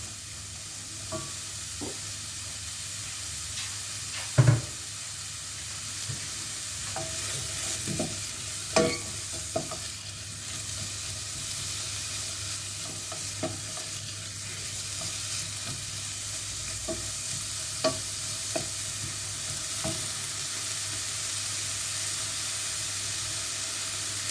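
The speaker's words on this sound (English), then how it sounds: "Swish it round so all the onions coated with the oil." Onions fry in oil with a constant, hissing sizzle, broken now and then by light clinks and scrapes as they are stirred and swished around the pan for a salsa dip, with no talk.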